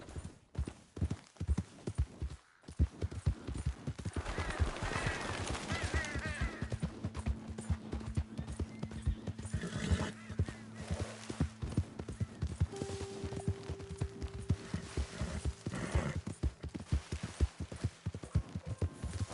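Hooves clatter in a fast, steady rhythm for a long stretch, a galloping horse in the video game Red Dead Redemption 2 heard up close with brief tonal sounds layered over it.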